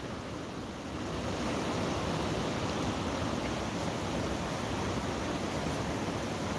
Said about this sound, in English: you can see them waves are rolling